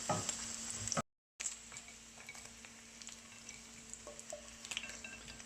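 Cubes of paneer cheese frying in oil in a pan, a steady close sizzle with light stirring and scraping clicks. A short dropout cuts in early.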